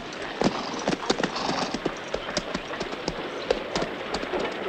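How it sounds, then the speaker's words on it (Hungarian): Horse hooves clip-clop steadily and close by on a Western film's town street, with a horse whinnying among them, all over a busy, noisy background. "Vigyázz a lovakra."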